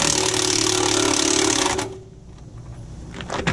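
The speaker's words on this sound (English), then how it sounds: "I'm getting ready to put the lug back on using the wrong socket." A pneumatic impact wrench hammers a lug bolt back onto a car wheel with a socket of the wrong size, a steady rapid rattle for nearly two seconds before cutting out, leaving shop noise and a brief renewed burst at the end.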